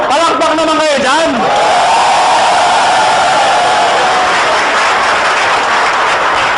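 Dense, steady applause from a seated audience at a marketing seminar fills the room, a continuous loud wash of many hands, with a voice and some whistling or cheering briefly at the start.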